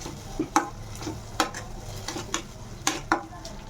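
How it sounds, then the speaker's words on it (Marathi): Yogurt being stirred into a tomato masala for a Maharashtrian fresh tur bean curry: a spoon scrapes and taps the pan in several sharp, irregular strokes over a soft, steady background. "त्यानंतर आपण याला छान मिक्स करून घेऊया"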